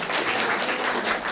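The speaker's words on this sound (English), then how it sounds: "So give them an applause." Audience applause at an anime convention panel, steady broadband clapping from a packed room filling the whole short moment without any voices on top.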